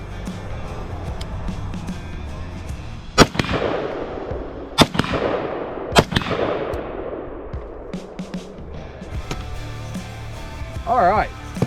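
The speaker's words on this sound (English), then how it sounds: "we're going to take some shots with the little rifle here" A few AR-15 rifle shots ring out outdoors, three sharp loud cracks spaced about a second and a half apart, each trailing a long echo, with a voice speaking briefly near the end.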